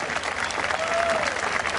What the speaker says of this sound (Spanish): Fuerte aplauso para ella también.